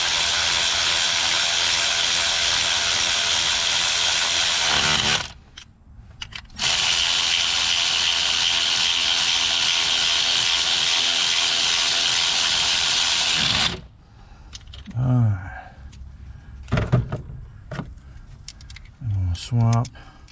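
A ratchet snugs down bolts on the glow plug relay of a 7.3 Power Stroke in short bursts of clicking, after long stretches of steady loud hiss, with voices talking in between.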